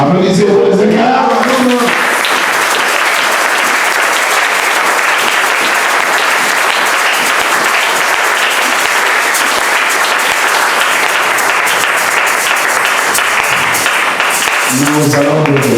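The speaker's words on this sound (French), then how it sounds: "Applaudissez pour le Seigneur." A church congregation applauds at the close of a sermon, with loud, sustained clapping for well over ten seconds, and voices are heard at the start and end.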